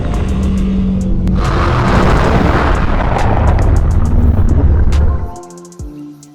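A dinosaur call in Roblox Dinosaur Simulator, a loud, rumbling, explosive bellow sustained for about five seconds before cutting off, followed by quieter game noises and no speech.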